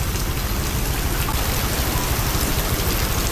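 Heavy typhoon rain pours down steadily during a power outage, a dense, loud, continuous hiss of drops hitting surfaces with no letup.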